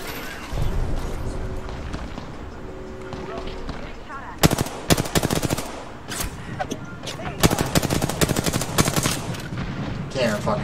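Video game gunfire in repeated loud bursts of rapid automatic shots with short gaps, with someone talking quietly at times over the game's background noise.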